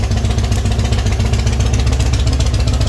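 A Yamaha V Star Raider 1900 motorcycle with a big V-twin engine idles with a steady, deep, loud rumble close by, holding an even low throb throughout with no talking.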